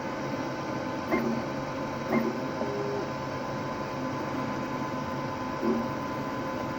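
An Anycubic Kobra S1 FDM 3D printer runs with a steady low mechanical hum and fan noise, punctuated by a few brief clicks and short stepper-motor tones.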